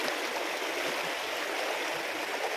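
River water runs past stones in a Konkan village stream, a close, continuous rushing babble at a steady level.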